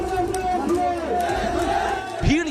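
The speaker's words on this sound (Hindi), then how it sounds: "भीड़ यहाँ भी जबरदस्त है, हर तरफ लाल टोपियां दिख रही हैं" A large crowd at a Samajwadi Party election rally in Unnao, where many supporters wear red caps, making a loud, steady roar of many voices with shouting rising above it.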